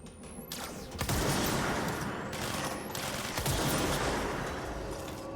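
Gunfire in the video game Control, a dense continuous burst of rapid shots lasting several seconds, loud and close, with no talking over it.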